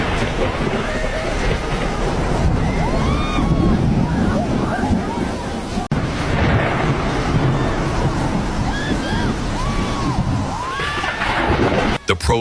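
Floodwater after prolonged heavy rains in Bangladesh surges downstream in a loud, continuous roar of rushing water, with faint voices in the background.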